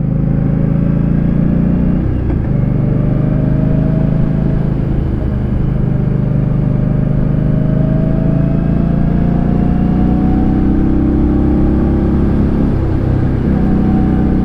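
An Indian Scout motorcycle rides a narrow cliffside road, its engine rumbling steadily and loud throughout, the pitch rising in long smooth sweeps as it accelerates and shifts, with wind noise underneath.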